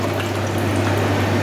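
Rice-soaking water poured into a cooking pot for chicken kabsa, a continuous close splashing pour with steady rushing water and no pauses.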